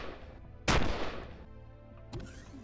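Turret gunfire in the game Empyrion Galactic Survival: one loud, sharp blast with a short ringing decay, then a second fainter shot a moment later.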